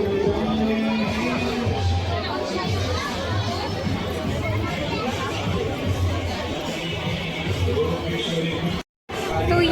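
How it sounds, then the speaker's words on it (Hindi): Dense crowd of devotees at a Radha Krishna temple in Kawardha during Janmashtami, a steady loud babble of many voices with children mixed in, continuous throughout with a brief dropout near the end. "तो यहाँ पे देख सकते हो कितना ज़्यादा भीड़ बन चुकी है संगवारी हो।"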